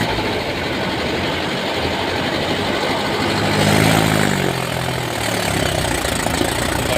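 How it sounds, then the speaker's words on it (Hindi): A tractor stuck in a field, its engine straining with a heavy, continuous low rumble that swells in the middle as it labours under load, loud and steady throughout. "भाई साहब ट्रैक्टर दम नहीं लगा रहा है"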